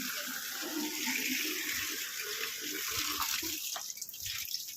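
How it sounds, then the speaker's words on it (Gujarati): Steady tap water runs continuously, close and fairly loud, a broad hiss with a faint splash underneath while a garden hose is being set up for washing a motorbike. "મિત્રો જો પાણી આવે"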